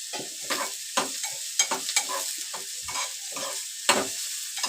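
Chopped onion roasts in a pan over low gas for egg bhurji, a steady soft sizzle broken by repeated scraping stirs of a spatula at an even rhythm, close and moderately quiet with no talking.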